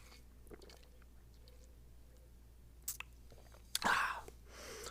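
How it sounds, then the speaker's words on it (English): Someone sips a drink very close to the microphone: a quiet, wet slurp followed by a louder, brief sucking and swallowing burst against a faint background. "You guys are going to hear the whole sipping sound?"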